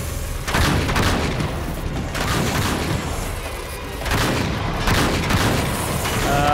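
Gunfire in the Uncharted 3 video game, repeated booming shots and short fusillades in a dense battle mix, each burst loud and rolling, coming in waves every second or so.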